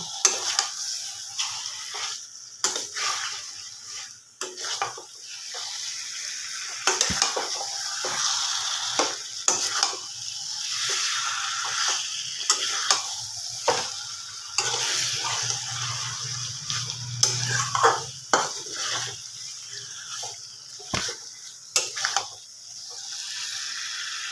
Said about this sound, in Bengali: গ্যাসটা একটু বাড়িয়ে মাংসটাকে একটু ভালোভাবে কষিয়ে নেব।